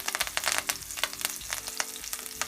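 Green chillies and curry leaves hit hot oil with popping mustard seeds while making mutton keema, a loud, close, crackling sizzle with rapid irregular pops throughout.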